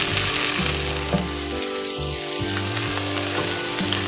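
Chopped onion, celery, carrot and leek frying in butter in a pan for a Kerala-style butter prawn dish, a steady close sizzle with a few stirring scrapes, no talking.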